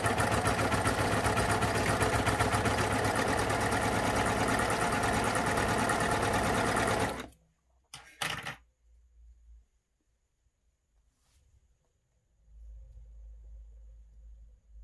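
A baby lock Euphoria coverstitch machine runs steadily for about seven seconds, stitching gathers with differential feed at 2 and stitch length 4, then stops abruptly, leaving near silence with a few faint handling clicks.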